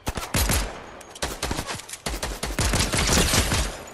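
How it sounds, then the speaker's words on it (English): Gunfire in an online shooter video game, a fast string of sharp close shots in quick bursts with short pauses, loud and crisp with no talking over it. "Somebody else shooting at us."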